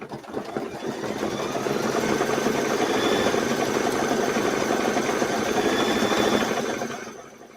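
Embroidery machine stitching down a Kimberbell A Quilty Little Christmas design, a steady rapid mechanical chatter running continuously at close range for about seven seconds before tapering off.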